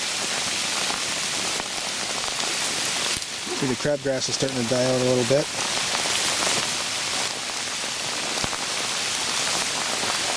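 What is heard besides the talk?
rain falling on a no-till food plot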